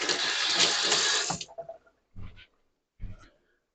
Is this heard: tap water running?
yes